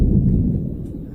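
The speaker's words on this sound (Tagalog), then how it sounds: "Nakatakot yung kidlat." Thunder from an evening lightning storm in Japan in September, heard as a loud, deep rolling rumble that swells at once and slowly fades over about a second, with no voices.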